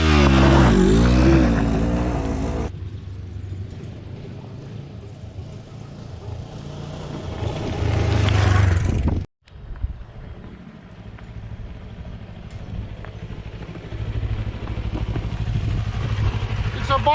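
A Morbidelli T352X motorcycle engine runs steadily at close range, rising in a brief rev, cutting out for a moment, then settling back into a continuous drone.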